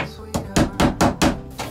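A small hammer taps wooden skirting boards into place inside a cedar spa capsule, six or seven sharp, evenly spaced knocks, close and loud.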